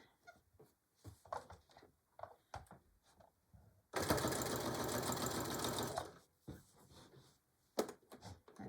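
A sewing machine stitches a Christmas table runner in one loud, steady burst of about two seconds. Quiet handling clicks and taps come before and after it.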